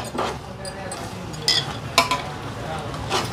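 Coriander and mint stirred into a pan for chicken biryani, a soft sizzle under scraping spoon strokes with a few sharp metal clinks, close and moderately loud.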